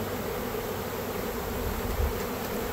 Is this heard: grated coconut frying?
no